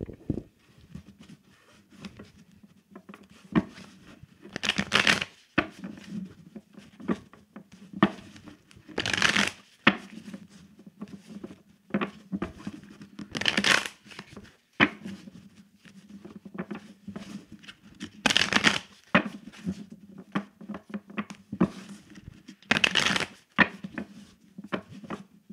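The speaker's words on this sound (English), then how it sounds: "I'm going to go ahead and shuffle these tarot cards about Cat Williams." A deck of tarot cards is shuffled repeatedly in a quiet room, each riffle a crisp close burst of papery flutter, coming in bursts every few seconds with soft handling sounds in between.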